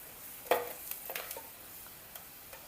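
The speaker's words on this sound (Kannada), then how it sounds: "ಉದ್ದಿನಬೇಳೆ, ಅದಾದಮೇಲೆ ಕಡಲೆಬೇಳೆ, ಲೈಟಾಗಿ ಹುರ್ಕೋಬೇಕು." Urad dal and chana dal lightly roasting in hot oil after mustard seeds for vegetable upma, giving a faint sizzle with a few soft stirring clicks and scrapes, close and quiet, with no talking.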